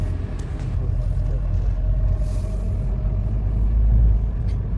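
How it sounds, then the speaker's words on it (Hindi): A loaded car pulls away on a rainy mountain road near Joshimath, its engine a steady close low rumble with road noise and no talk. "ये गाड़ी थोड़ी लोड थी, तो इस करके ये बीच में फंस गई थी, तो अब निकली है।"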